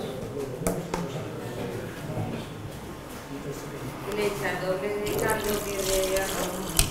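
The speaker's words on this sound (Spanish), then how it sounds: "Y ahora le vamos a echar el caldito." Vegetable broth poured into a pan of cooking rice, a close gushing stream of liquid that grows louder and splashier toward the end, with people talking over it.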